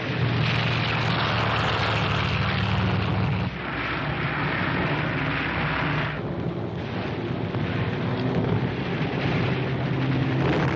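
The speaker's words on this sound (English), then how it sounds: "Catapult plane being launched." A propeller plane is launched by catapult from an aircraft carrier in a 1944 war film, a loud sustained engine roar and rushing wind that shifts slightly partway through.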